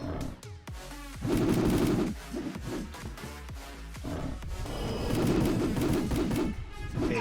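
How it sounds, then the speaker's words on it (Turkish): Rapid gunshots from the Leviathan weapon in the shooter game Wolfteam crack in dense bursts over a loud, busy game mix, with repeated sharp reports running throughout. "headshot her türlü gidiyor ya bu Levitan vuruşu dediğimiz vuruş"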